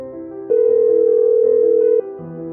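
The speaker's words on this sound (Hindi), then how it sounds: "सूरज ने प्रशांत का फ़ोन रख पाखी को फ़ोन मिलाया।" A loud, steady telephone tone sounds for about a second and a half between softer tonal passages as a call is placed, with no voices.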